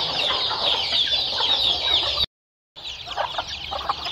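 Hens with their chicks cluck busily in a Punjab village yard, a continuous overlapping chatter of close clucks and chirps with a short gap in the middle.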